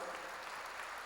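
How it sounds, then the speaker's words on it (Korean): A church congregation applauding during a sermon: dense, steady clapping that fills the room for about a second, with no clear gaps or voices standing out. "박수 좀 세게 쳐요."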